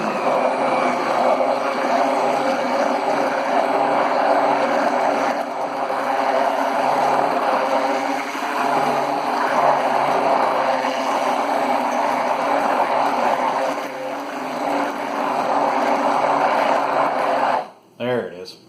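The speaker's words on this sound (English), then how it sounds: "So let me get my mixer again." An electric hand mixer whirs steadily through keto cheesecake batter, a loud, continuous motor drone that runs for most of the stretch before cutting out abruptly near the end.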